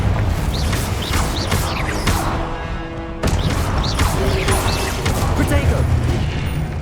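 A Confringo explosive spell in the Hogwarts Legacy video game, a dense, crashing blast with rumble and debris clatter that stays loud, with a sharp renewed burst partway through.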